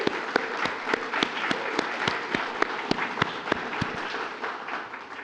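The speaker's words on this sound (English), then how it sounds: "a round of applause for UWSP Wausau campus here for allowing us" A campus audience gives a round of applause, a steady patter of many hands with sharp individual claps standing out, sustained for several seconds and fairly close.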